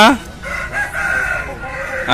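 A rooster crows loudly nearby at a country chicken market, one long harmonic call rising and falling, with faint clucking and chatter around it.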